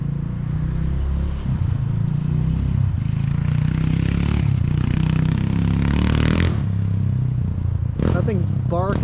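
A freshly rebuilt 1982 Honda XR200R dirt bike engine runs loud and close, its rough single-cylinder idle rising into revs with some clattering, while voices talk over it.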